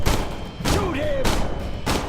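Bursts of gunfire in the video game Dark, with loud broadband shots at the start and again midway and near the end, heavy thumps underneath and a rising whistling tone between the volleys.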